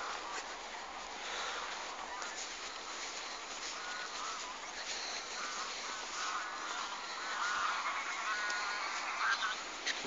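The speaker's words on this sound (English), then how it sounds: "You can hear the ducks would love me being here." Ducks call near Gadloch, a loch in Lenzie, East Dunbartonshire, Scotland, as honking and quacking bursts over a constant outdoor wash of noise, at moderate distance and fairly faint.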